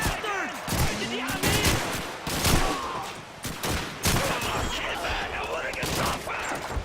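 A Thompson submachine gun fires in Call of Duty 2 amid a noisy battle, with repeated bursts of sharp gunshots and distant shots mixing with shouting voices, loud and dense throughout.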